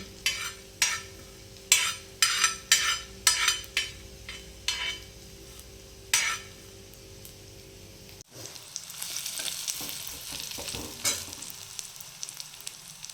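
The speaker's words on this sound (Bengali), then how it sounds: "এগুলো একটু নেড়ে নেবো আগে কড়াইতে" Whole spices and onion dry-roast in a kadai under a spatula: about eight seconds of rhythmic scraping strokes, close and clear, then a denser, continuous sizzling fry with occasional clatters.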